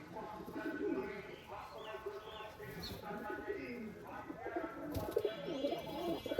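Giribaz pigeons coo in low, throaty warbles, a steady murmur of several birds close by, with occasional faint chirps and a voice in the background.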